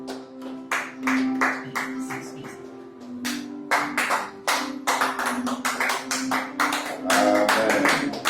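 A church congregation claps in loud, uneven bursts of many hands, with short pauses between rounds and voices rising over the clapping.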